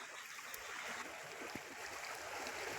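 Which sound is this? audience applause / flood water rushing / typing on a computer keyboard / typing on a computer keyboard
flood water rushing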